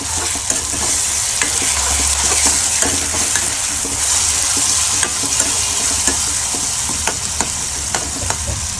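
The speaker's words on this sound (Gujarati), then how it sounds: "આપણે જે આ ટમેટા કાજુ અને આ જે લસણની જે ગ્રેવી કરી હતી એ આપણે આની અંદર એડ કરશું" Tomato, cashew and garlic gravy being stirred into browned onions in a hot pan, giving a steady sizzle under repeated scraping strokes of a spoon, with no talking.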